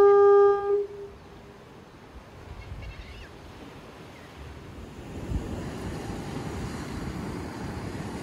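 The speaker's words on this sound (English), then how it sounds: "These are summer waves, but they're pretty cool." Summer ocean waves break by the south jetty at Humboldt Bay, a soft, distant wash of surf with wind rumble that grows slightly louder in the latter half after a brief tone at the start.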